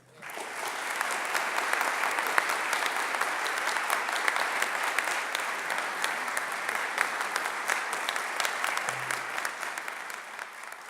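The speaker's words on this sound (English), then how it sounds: "All right, you can stop clapping now." An audience in a chapel applauds a visiting preacher, dense sustained clapping that swells quickly and carries on for several seconds before gradually thinning out.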